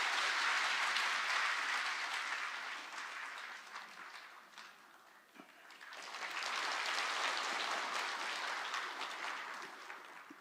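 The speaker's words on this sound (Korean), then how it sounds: "우리 아이를 박수로 축복합니다" A church congregation applauds to bless a child during a Sunday worship service, a broad sustained wash of clapping from many hands that dips briefly midway, then swells again and fades, heard from a distance without talk.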